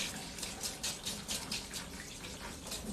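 Cold tap water runs steadily while hair dye is rinsed out of hair, a continuous close splashing hiss with slight pulsing, no voices.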